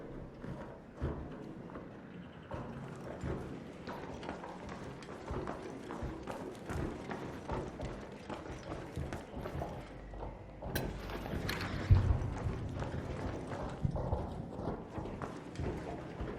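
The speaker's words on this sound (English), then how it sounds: "I do hear footsteps." Footsteps in Arc Raiders, a steady run of soft thudding steps like hooves clip-clopping, with a sharper clank near the end, low and somewhat distant with no voices.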